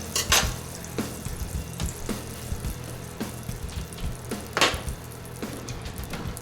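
Monte Cristo sandwich frying in butter in a pan, a continuous close crackling sizzle with irregular pops and a few sharper spatters, no voices.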